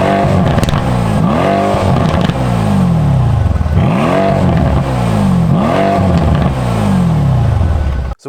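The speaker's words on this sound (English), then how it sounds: "That exhaust and that V8, oh, it just roars." A bi-turbo V8 engine of a 2018 Mercedes-AMG C63 roaring close and loud, revving up through the gears in repeated rising sweeps with a rumbling, crackling exhaust note.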